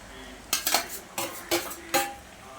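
Set-aside cooked meat goes into a pot for irachi chor, marked by several sharp metal spoon clanks against the pot and brief scraping, close and clear.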